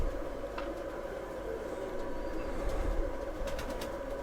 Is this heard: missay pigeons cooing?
yes